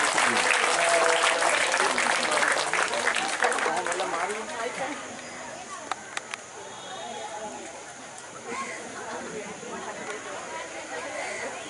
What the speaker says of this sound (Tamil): MSF ஷிஃபானா மேடம் அவர்களை உங்களுடைய அன்பு கரகோஷங்களுக்கு மத்தியில் வேலைக்கு அழைக்கின்றோம்.